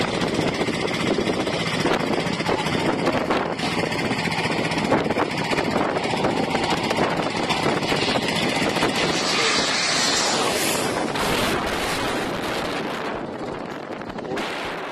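An aircraft roars loud and close with a rough, continuous engine noise that builds and then swells into a rushing whine as it sweeps past near the end, with no voices.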